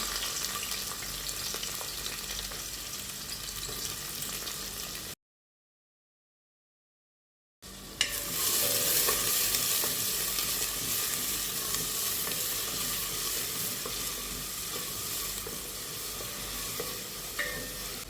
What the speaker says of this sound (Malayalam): നമുക്കിതിലേക്ക് ഇട്ട് കൊടുക്കേണ്ടത് ഉള്ളിയും വെളുത്തുള്ളി ഇഞ്ചി ഇത് 3 കൂടെ ഇട്ട് കൊടുക്കുകയാണ്